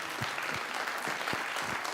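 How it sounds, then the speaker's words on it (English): An audience at a Rotary District 6630 Four-Way speech competition gives a round of applause, dense continuous clapping from a crowd that stays steady and fairly close throughout the short stretch. "Let's give them another big round of applause."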